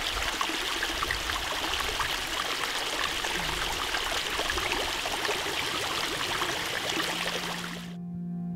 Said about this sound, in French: on va plonger la gourde en bas et ensuite vous la retournez et vous prenez l'eau du bas